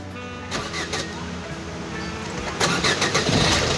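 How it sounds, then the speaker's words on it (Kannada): A car engine starts by key during a driving lesson with the clutch pressed: a brief crank that catches into a loud, steady running engine close by. "ಕ್ಲಚ್ ಪ್ರೆಸ್ ಮಾಡಿ ಈಗ ಕೀನ ಟರ್ನ್ ಮಾಡಿ ಗಾಡಿ ಸ್ಟಾರ್ಟ್ ಆಗುತ್ತೆ"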